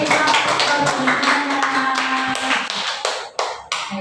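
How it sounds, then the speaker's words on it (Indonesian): Applause for an elementary school teacher at a school event, with a steady crackle of claps sustained throughout and a faint tonal hum beneath, thinning into a few scattered final claps near the end. "Tepuk tangan untuk guru SD."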